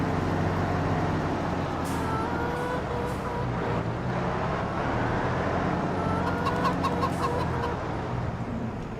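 Chickens clucking in the Farming Simulator 25 video game, steady continuous fowl clucking over a constant low tractor engine rumble, with no talk.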